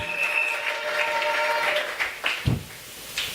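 A church congregation applauds, steady clapping from many hands filling the room at a moderate level before tapering off into scattered claps.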